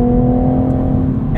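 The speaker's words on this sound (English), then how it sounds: "You leave it in gear, you let it rev out, you're not always shifting." A 2023 Toyota GR Supra 3.0 with manual transmission holds a steady, loud engine note at sustained revs in gear, a continuous drone heard from inside the car.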